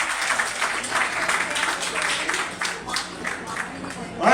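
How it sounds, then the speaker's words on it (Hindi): Audience applause at an evening devotional gathering for the Jhulelal Chaliha, day 31, a steady wash of clapping across the whole stretch with voices mixed in beneath it. "नीतू के लिए तालियां तो बजा दो एक बारी।"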